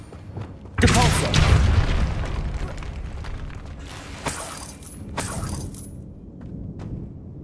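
A Depulso spell cast in the video game Hogwarts Legacy, a sudden booming blast with shattering debris that fades into rumbling and creaking mechanisms, followed by further crashes; a voice speaks over it.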